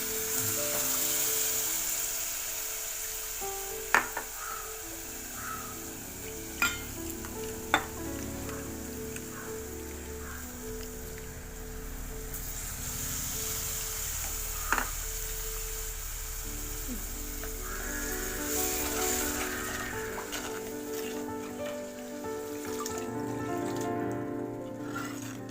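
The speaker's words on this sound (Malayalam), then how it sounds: "മഞ്ഞപ്പൊടി ശകലം, എണ്ണയിൽ കുറച്ച് ഇതാക്കിയതിന് ശേഷം പുളി ഒഴിക്കുക." Tamarind water hissing in hot oil with turmeric for a chili curry: a steady, close, broad sizzle that holds for the whole stretch, broken by a few light clinks of a utensil against the pan.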